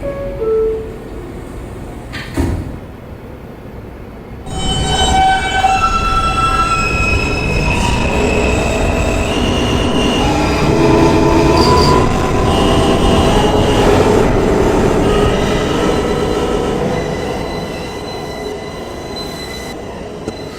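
A Queens-bound New York subway E train pulls out of the station, its wheels letting out loud, sustained high-pitched squeals and screeches over the heavy rumble of the railcars, rising after a brief lull and continuing for most of the stretch.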